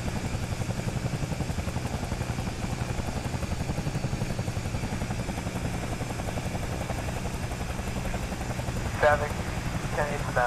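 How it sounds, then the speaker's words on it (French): A wheeled helicopter's engine and rotor run in Microsoft Flight Simulator, a steady, loud, rhythmic thrum with fast chopping pulses, and a faint radio-like voice appears near the end. "Alors les hélicoptères avec des roues, c'est quand même vachement sympa."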